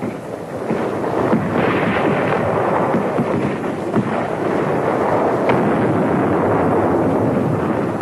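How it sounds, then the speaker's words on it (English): A heavy World War II naval and artillery barrage pounds the shore before the beach landing at Kwajalein, a loud continuous roar of rumbling blasts with no talk. "It took only a few moments of firing to empty these shell cases."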